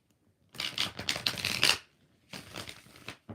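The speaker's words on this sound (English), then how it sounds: "One more shuffle." A deck of tarot cards is shuffled up close in two bursts of papery riffling and flicking, separated by a short pause, with no voices.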